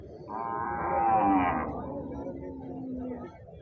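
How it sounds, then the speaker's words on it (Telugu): A cow lows once in a long, rising then falling moo at a busy weekly cattle market, with crowd murmur underneath. "ఆవు మాత్రం మంచి సైజు ఉంది ఇది ఇది రకం ఉందండి ఆవు"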